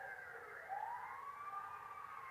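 An ambulance siren in the video game GTA 5 wails in a smooth rising and falling tone, moderately loud over a steady background hum, with no talking.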